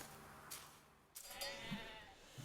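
Faint sheep bleats sound among quiet ambient clicks and chimes in the Life is Feudal: Forest Village game, short and thin, with one low bleat near the middle.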